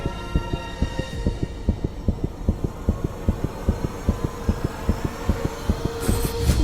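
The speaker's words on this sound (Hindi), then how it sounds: "ये किसी इंसान के दिल की धड़कन नहीं है, मानो कि जैसे किसी मशीन से ऑपरेट हो रहा है।" A rapid, unnaturally fast heartbeat pulses in a steady, machine-like rhythm, about four beats per second, with low thumps over a faint hum and no voices.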